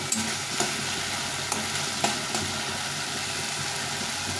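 Masala sautés in oil in a pan with a steady close sizzle, punctuated every half second or so by light clicks and scrapes of a spoon stirring.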